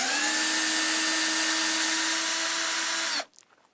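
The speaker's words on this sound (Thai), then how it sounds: "ต้องขัน ต้องขันน็อตออก เอาน็อตออกเปิดคางครับ" A power drill or impact driver runs steadily to back nuts off and open a side panel, a continuous whirring motor tone lasting about three seconds before stopping abruptly, close and loud with no talk over it.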